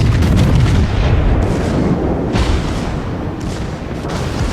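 Warship guns in the World of Warships video game fire in heavy, rumbling booms, close and loud, rolling into one another continuously with no speech.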